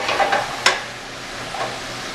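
Halved tomatoes dropped into a hot pan for chicken chasseur, a few quick sizzling bursts and a sharp clatter, then a softer, fading hiss.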